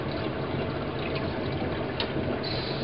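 Brewing grains being rinsed with warm water, a steady, dense rush of pouring liquid that holds evenly at moderate loudness from start to finish without pause.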